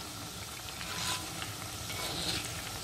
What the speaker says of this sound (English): I'm back to give it a stir